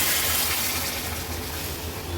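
Steady rush of water, about one and a half glasses, pouring into a cooking pot for a thin prawn curry, continuous and close, with no talking.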